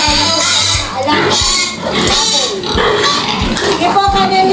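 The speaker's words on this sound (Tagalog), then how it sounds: "ano po ba itong mga alaga nating baboy na napakaliit?" Small piglets on a Filipino pig farm squeal and grunt continuously, close and loud, with people talking over the noise throughout.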